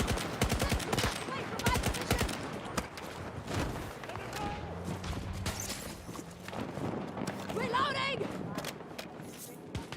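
A vehicle turret fires in the Battlefield video game, loosing rapid bursts of sharp repeated shots. Dense in-game battle noise sits around the fire, and a voice talks over part of it.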